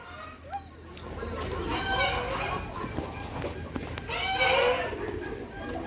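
Country chickens clucking and squawking in a rural setting, several birds calling in bursts over steady background noise, with no talk during the calls.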